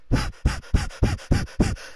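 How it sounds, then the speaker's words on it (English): A person pants heavily, with six quick, loud, rhythmic breaths close up and evenly spaced, with no talk. "I'm panting like a dog."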